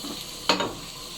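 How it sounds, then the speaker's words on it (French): Onion and leek dropped together into hot oil in a wok, one sharp sizzling burst that quickly settles to a softer fry, with no talking. "mettre votre huile voilà, dans le wok. Regardez. Et on va envoyer en même temps l'oignon"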